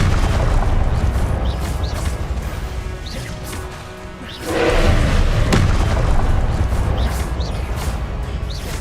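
A Confringo explosion spell from Hogwarts Legacy bursts in a heavy boom over a dense, rumbling background of magical combat, loud and close, with the blast swelling about halfway through.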